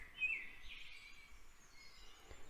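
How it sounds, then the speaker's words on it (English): Faint bird chirps sound in the distance against a quiet outdoor background, a few short calls over a couple of seconds. "you're listening to me speak and you're also hearing the birds"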